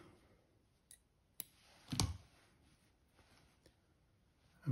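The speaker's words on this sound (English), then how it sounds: "So I'll just snip a piece off." Scissors snip a piece of red holographic tinsel at a fly-tying bench, making a few faint, sharp clicks with one louder cut near the middle, and nothing else in a quiet room.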